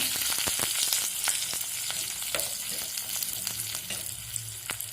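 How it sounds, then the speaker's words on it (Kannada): Green chillies and salt fry in a pan with a steady close sizzle and crackle, small pops scattered throughout and occasional stirring, no talk over it. "ಇದನ್ನೆಲ್ಲ ಸ್ವಲ್ಪ ಫ್ರೈ ಮಾಡ್ಕೊತೀನಿ"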